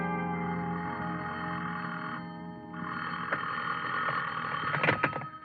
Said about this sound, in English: somebody was ringing a telephone in my ears